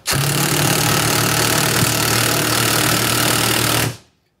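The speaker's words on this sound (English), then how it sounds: "I'm gonna drill this bolt through this piece of uh, wood" A loud, steady mechanical whir of an Uaoaii cordless impact wrench on its lowest setting driving a bolt into wood, running continuously for about four seconds, then cutting off abruptly.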